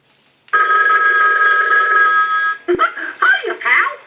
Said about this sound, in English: We can use the analyzer and send a ring cycle.